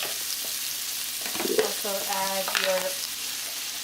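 Onions and garlic sizzle in a hot pan for curry fried rice, a steady close frying hiss with stirring scrapes and a brief word spoken over it.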